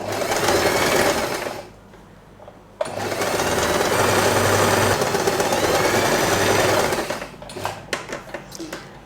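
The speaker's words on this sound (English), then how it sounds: "let us take this to the sewing machine and sew all along the fabric" A sewing machine stitches fabric for a scrunchie hair band, running in fast, rhythmic bursts, pausing briefly, then whirring steadily again before slowing to a few final stitches.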